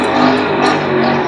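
A turbocharged V8 drift car engine runs loud and close, slightly damaged after the car hit a concrete wall, with a steady rumbling idle and small revving swells alone for a moment.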